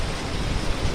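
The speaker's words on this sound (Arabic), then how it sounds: "شوفوا المطر كلش عميق" Heavy rain falling at night, a dense, loud, steady hiss of downpour with no other sound standing out.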